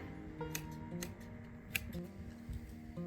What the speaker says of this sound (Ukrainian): зараз заради експерименту хоче спробувати ще старими ножицями зрізати